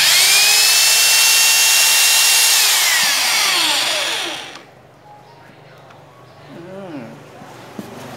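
A cordless hammer drill runs at high speed with a loud, steady whine that then winds down and stops, followed by quieter handling noise and someone speaking.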